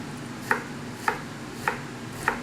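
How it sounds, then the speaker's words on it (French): A knife chops an onion finely on a board, four sharp, evenly spaced cuts about half a second apart, close and clear over a low kitchen hum. "nous commençons par couper l'oignon. Vous pouvez le faire assez finement."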